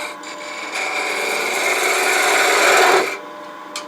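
A wooden fluted pot being hollowed on a lathe gives a steady, loud rasping scrape of the tool cutting the spinning wood, running for about three seconds and building slightly before it stops.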